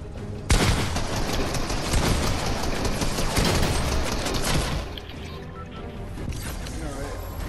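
Booming blasts from a purple shotgun in Fortnite ring out amid loud gunfire, crashes and game noise. A voice talks over the action.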